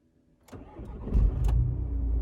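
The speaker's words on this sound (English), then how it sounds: "How loud is the startup inside the car?" A Seat Leon FR Mark II 2.0-litre TDI diesel starting up, heard from inside the car: a quiet lead-in, then the starter cranks and the engine catches and settles into a steady idle.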